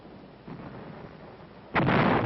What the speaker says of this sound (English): Artillery fire cuts off enemy supplies.